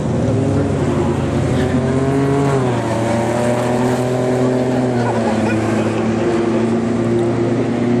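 Engines of racing cars, including a BMW E36 and a Ford truck, roar loudly and continuously, pitch rising and falling as vehicles accelerate and shift gears, close by.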